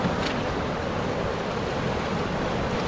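River rapids in Alaska rush in a steady, broad, hissing roar of turbulent water, continuous and fairly close, with no voices.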